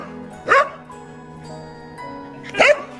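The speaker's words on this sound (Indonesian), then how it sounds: "anjing yang hanya menggonggong saja" A dog sound effect: two loud, sharp barks spaced about two seconds apart, each a short burst over a quiet, steady tonal background.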